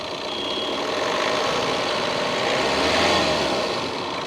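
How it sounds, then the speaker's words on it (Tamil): A Tata Altroz diesel hatchback engine runs with a steady, close rumble and clatter, swelling briefly as it is revved near the end, with no voices. "டிப்பிக்கலாக டீசல்ஸுக்கு இருக்கக்கூடிய ஒரு டீசலோட அந்த ஒரு ரம்பிள் கிளாட்டரோட ஸ்டார்ட் ஆச்சுது"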